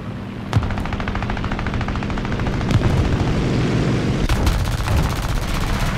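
Sustained bursts of .50 caliber machine gun fire in War Thunder, a steady rapid rattle of loud close shots running throughout, with a few heavier booming impacts mixed in.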